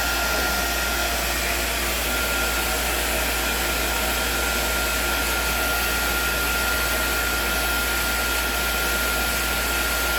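A hair blow dryer runs continuously on hair during a rebonding and hair colouring session, a steady loud whooshing roar with no breaks.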